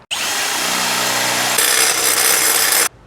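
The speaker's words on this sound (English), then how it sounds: "So let's start drilling." A 1/2 inch drill bit bores into a Miata part, a loud continuous whine of the power drill with steady grinding friction that shifts pitch partway through and then stops abruptly.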